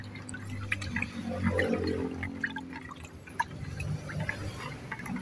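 Triple 14 fertilizer being stirred into a small amount of water for bougainvillea plants, giving close sloshing, swirling liquid sounds with scattered drips and clinks, steady and moderately loud without talk.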